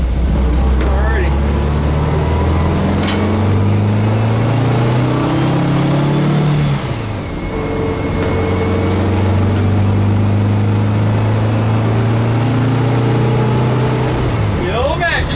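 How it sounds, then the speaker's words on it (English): A VW bus with a 1600 engine runs close and loud, its air-cooled motor droning and revving up in rising sweeps, easing off midway, then climbing again through the gears. "Love this new motor in here. 1600 is all the bus needs, man."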